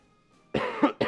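A person with a bad cough coughs sharply two or three times in quick succession, close and loud after a moment of near silence.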